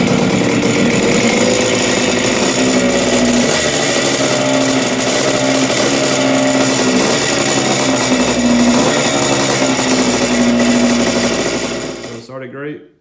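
A vintage air-cooled Yamaha 125 motorcycle engine idles loud and close after a top-end rebuild, a steady buzzing drone with slight rises in revs, then cuts off abruptly at the end.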